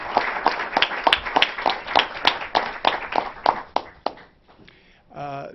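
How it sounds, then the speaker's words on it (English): Applause from a small group at a New York government news conference: a run of distinct, fairly close hand claps that thins out and stops, followed by a short stretch of quiet and then a bit of talk. "Let's give everyone a round of applause."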